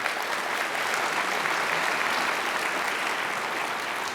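Sustained applause from a conference hall audience at a party spring conference in York, dense and steady throughout without a break, no voices on top.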